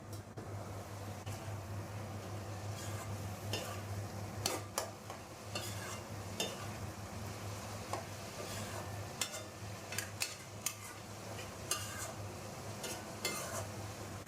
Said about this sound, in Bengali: ঢাকনাটা খুলে একটু নেড়ে দেবো আবার।